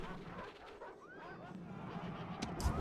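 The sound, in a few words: dogs barking in the video game Rome Total War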